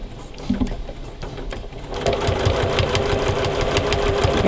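A Memory Craft 6600 Stitch Link sewing machine starts up partway through and stitches quilt binding in a fast, steady mechanical whir with rapid rhythmic needle clatter, close and clear, after a few quieter handling noises.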